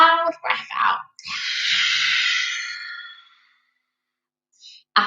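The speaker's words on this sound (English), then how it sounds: "Big breath in. Long, loud breath out." A group of children in a yoga class draws a breath in and then lets out one long, loud sighing breath lasting about two seconds, with a brief breathy burst before it and silence after.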